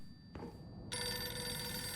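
Telephone ringing in the horror game Silent Hill f: a brief tone, then a bright, loud electronic ring that starts and sustains, alone without talk.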